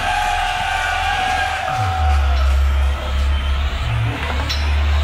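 A rock concert crowd in Roermond in 1999 cheers and whoops loudly for a guest artist, with sustained low stage rumble and tones underneath the crowd noise.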